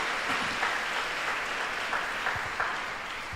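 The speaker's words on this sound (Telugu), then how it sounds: "గట్టిగా చప్పట్లు పడదాం, ప్రభుని స్తుతిద్దాం" A prayer congregation claps together in praise, a dense, continuous patter of many hands filling the hall at steady loudness, with a few sharper claps standing out.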